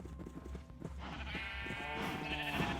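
Sheep on a Minecraft survival-island sheep farm bleat in a video game, with a drawn-out, wavering bleat rising over dense, steady game ambience in the second half.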